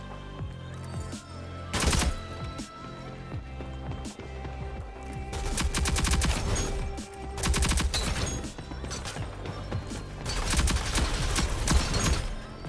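Gunfire in the Rogue Company video game crackles through a dense mix of rapid bursts and sharp shots over steady game music and effects, building in intensity toward the end.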